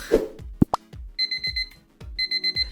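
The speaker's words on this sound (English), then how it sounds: "So I'll make sure to set my alarm, I think for 6 o'clock." An alarm clock set for 6 a.m. rings in the morning, its high electronic beeps coming in two quick rapid-fire bursts close by, after a few soft clunks and plops at the start.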